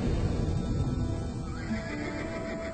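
Wild mustang horses in the Great Basin Desert neighing and whinnying, loud and close, with a few shrill calls over a dusty, rumbling background.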